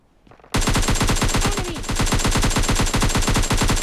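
Sustained automatic gunfire from PUBG Mobile Lite bursts in after a quiet half-second, a loud rapid stream of shots with an even rhythm that runs to the end.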